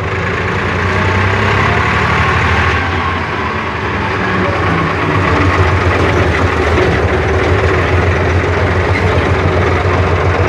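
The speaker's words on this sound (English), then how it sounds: "I love the sound of their engine. Just listen to that for a sweet sound." A David Brown 880 tractor engine runs steadily and loudly up close, with a deep, even chugging throb and no talking.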